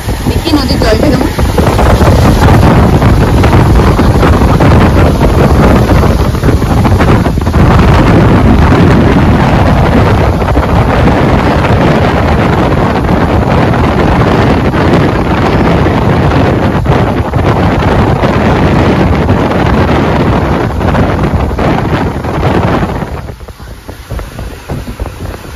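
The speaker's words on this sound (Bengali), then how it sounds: "জল যাচ্ছে এখান থেকে, মানে ভালো বৃষ্টি হচ্ছে পাহাড়ে।" A rain-swollen river rushing through the hills of Bhutan, a loud, dense, continuous roar of churning water mixed with heavy wind buffeting the microphone, easing off slightly near the end.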